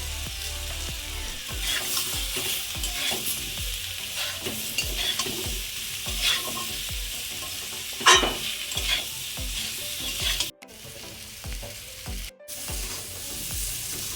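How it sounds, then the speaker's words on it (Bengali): Spices sautéed in a pan with potato and salt for a koi fish curry with mankochu, a steady oily sizzle under repeated scraping stirs of a spatula, close and continuous with a couple of brief pauses. "মশলা আমার কষানো হয়ে গেছে"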